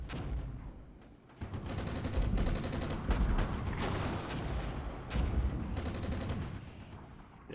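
Gunfire from Armored Brigade, a tank warfare game, rattles in dense overlapping bursts and booms, continuous and loud from start to finish with no talking.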